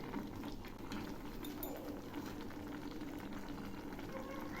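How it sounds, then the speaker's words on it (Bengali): Taki fish and bottle gourd curry simmering in a pot as it is stirred, with a quiet bubbling hiss and faint scraping, soft and continuous. "এখন আবার একটু নেড়ে দিচ্ছি।"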